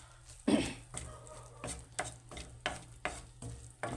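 Spaghetti with cheese being stirred in a pan, giving soft repeated scraping strokes with a light sizzle underneath at close range, and no one talking.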